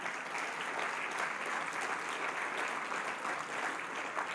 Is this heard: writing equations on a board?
no